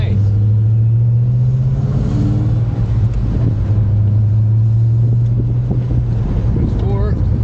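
A 1997 Ford Mustang Cobra driving on a road, a steady low engine drone with wind and road noise filling the cabin, loud and continuous throughout.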